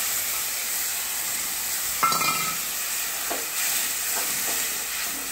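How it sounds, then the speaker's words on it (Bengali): Masala paste frying in a pan with sautéed onion and garlic, a steady moderate sizzle with a clatter as the paste goes in and a few soft stirring scrapes afterward. "আমি মশলাটা এবারে এর মধ্যে দিয়ে দিলাম"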